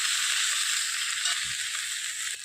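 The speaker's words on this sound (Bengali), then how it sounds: "আমি কিন্তু পেঁয়াজটা বেশি ভাজবো না, হালকাই ভাজবো" Chopped onions sizzling lightly in a little oil while spinach is cooked at home, a steady close hiss filling the whole stretch without talk.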